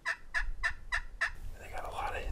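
A wild turkey gobbles from out in front in the field, a quick rattling burst of five pulses at moderate distance, trailing into soft outdoor background noise.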